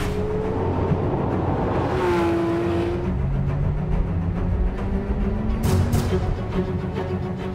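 A Porsche 911R's 500-horsepower engine revving on the move, a loud sustained drone whose pitch climbs and falls through gear changes, close and continuous with no talk.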